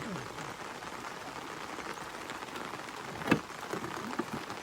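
Steady rain falling at a reservoir, a dense close patter of drops on surfaces with a few louder splats, under faint background voices.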